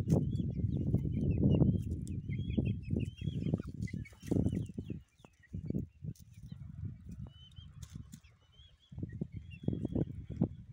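Three-month-old Light Sussex crossbreed rooster and pullets, offspring of a blue rooster and a Light Sussex hen, clucking and murmuring close by in a steady run of short bursts with a few brief pauses.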